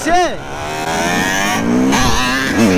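A dirt bike engine roars close by on a city street, a loud revving whine that swoops down as it passes, then holds and rises again, with people shouting and exclaiming over it.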